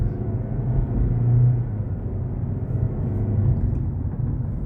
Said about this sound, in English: You're gonna hear the engine run a little bit, but CVT, 4-cylinder, so.